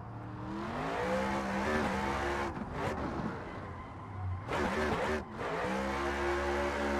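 A car drifting through a lap in a racing video game, engine revving loudly with rising and falling pitch as it slides, broken by brief shifts and tire scrubbing, steady and close.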